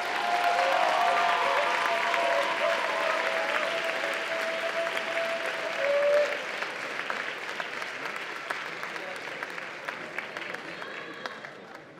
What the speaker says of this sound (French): je vais rappeler l'ensemble de mon jury sur scène que je vous demande d'applaudir bien fort